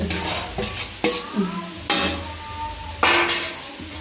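Loud sizzling of egg frying in a hot pan with scraping and stirring noises, the frying flaring up in bursts over a few seconds, while making kottu roti.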